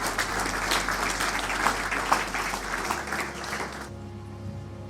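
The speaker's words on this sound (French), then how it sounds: "Tandis qu'il s'élève, nous l'encourageons par nos applaudissements" Applause from the audience at a youth conference in Kongo Central, a dense steady clapping that carries for about four seconds before cutting off abruptly, leaving a low hum.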